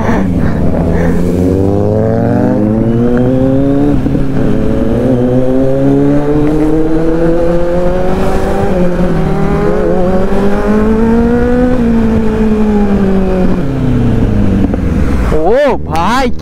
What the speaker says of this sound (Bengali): দুটো বাইকে কুল স্টার্টটা হচ্ছে